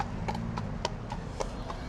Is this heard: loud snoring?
no